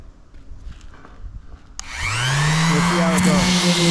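Wood sanded with coarse 60 grit sandpaper outdoors in sunshine, starting abruptly after a quiet moment and continuing as a loud, steady abrasive rasp with a rising whine, close to the microphone.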